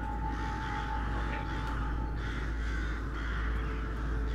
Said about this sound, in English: I hear a lot of crows.